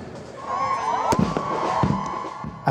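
A lavish university fireworks display at night honouring new law graduates of UST, with a sustained crackling roar, a few sharp booms punctuating it and crowd noise underneath.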